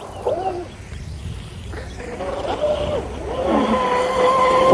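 Blackjack 42 RC boat at full throttle running into the wind, a steady motor whine with rising tonal pitch that grows louder toward the end, with water and wind noise underneath.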